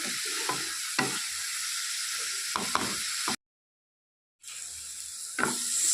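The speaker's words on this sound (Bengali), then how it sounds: "পেঁয়াজ লঙ্কার সঙ্গে ভালো করে মশলাটাকে কষিয়ে নিতে হবে" Spice masala with onion and green chili stir-fried for an egg curry, giving a continuous bright sizzle and scraping stirs that cut out briefly to silence before resuming.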